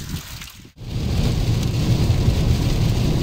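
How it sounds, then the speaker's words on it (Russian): Heavy rain pours down steadily and densely while driving a Geely Atlas on the road to Minsk, a brief dip near the start, then an unbroken loud wash. "Час едем, дождь не прекращается."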